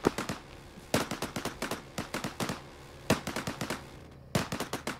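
Gunfire in a military shooter game crackles in rapid bursts of sharp, evenly spaced shots, several volleys separated by brief gaps, fairly distant and with no voices over it.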